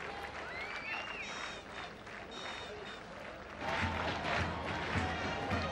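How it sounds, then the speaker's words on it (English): A large cricket crowd fills Asgiriya Stadium for a 1996 World Cup match between Sri Lanka and Kenya, a constant distant murmur with whistles that swells into louder cheering and clapping partway through, while a commentator talks. "So capacity crowd at the Asgiriya Stadium."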